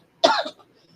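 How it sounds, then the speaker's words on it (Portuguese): A single short allergic cough, close and sharp, breaks an otherwise quiet moment and fades quickly. "Porque é uma tosse alérgica."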